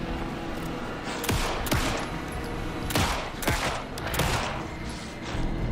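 Several bursts of rapid gunfire crack out over a steady background din in the video game Alan Wake 2, with sharp loud volleys clustered around the middle and end.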